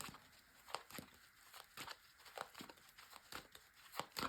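A deck of tarot cards is shuffled by hand, giving soft, rapid papery riffles and light slaps in an uneven rhythm, quiet and close with no voices.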